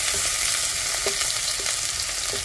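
Onions and garlic fry in a pan for pancit bihon, a dense, loud, steady sizzle up close with a few faint utensil taps.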